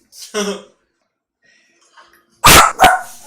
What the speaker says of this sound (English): little killer attack dog